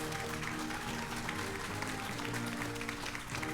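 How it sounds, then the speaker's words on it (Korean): A dense wash of applause fills the room at a groundbreaking ceremony for a new drug research cluster, steady and continuous, with a low hum of background noise underneath. "큰 박수로 맞이해 주시죠"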